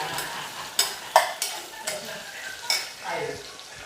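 Onion sizzles in a hot pan with a soft steady frying hiss, broken by sharp clinks and scrapes as a spoon stirs it, close by, with brief speech in the background.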